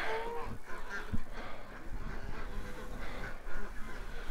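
Ducks kept at a home quack and honk in short, scattered calls over a steady outdoor background rumble, moderately close and with no one talking.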